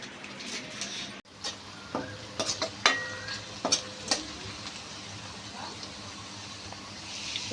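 Onions frying in a pan and stirred with a spoon: a low, steady sizzle with a run of sharp clinks and scrapes in the middle, then quieter frying.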